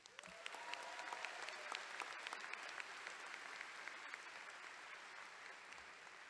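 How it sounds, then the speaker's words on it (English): A graduation audience at the 2022 PPCHS ceremony breaks into a sustained round of applause, many hands clapping steadily at moderate distance, fairly quiet and continuous throughout without any speech over it. "A round of applause for all you great people."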